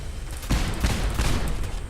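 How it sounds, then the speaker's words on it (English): A modded plasma combat shotgun in Fallout 4 fires several booming blasts in quick succession, each spraying multiple projectiles, with thick energetic crackle between shots; no voices. "I'm actually firing multiple projectiles per shot"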